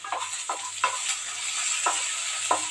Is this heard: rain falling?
no